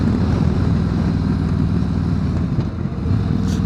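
A Harley-Davidson Road Glide Special cruising through city streets, a steady low engine rumble with rushing wind, continuous and fairly close, no talking.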